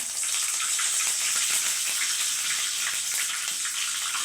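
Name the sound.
mustard seeds and curry leaves sizzling in hot oil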